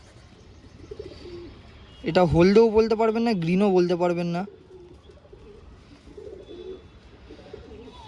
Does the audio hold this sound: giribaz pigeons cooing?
yes